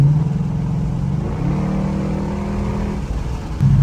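A 2012 Ford Mustang 5.0 fitted with a VMP Odin supercharger drives along a winding road, its engine droning steadily close by, rising in pitch as it pulls through a gear before dropping back, with no talk over it.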